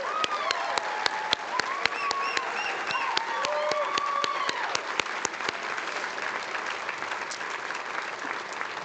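Applause fills the room at an inaugural medical school commencement ceremony for the Class of 2026, a dense wash of clapping with sharp individual claps standing out and faint whoops or voices mixed in, holding steady before tapering slightly.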